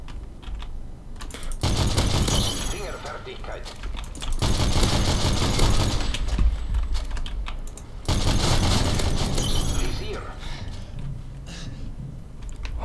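Modern Warfare 3 gunfire comes in three sustained bursts of rapid automatic fire, each lasting a few seconds, with quieter gaps of scattered shots between them and someone talking softly alongside.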